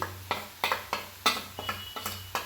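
Spices, coriander powder, garam masala and turmeric, being stirred and sautéed in a pan for a prawn roast: a steady run of sharp scraping strokes, about eight in a few seconds, close up, over a low sizzle with no talk.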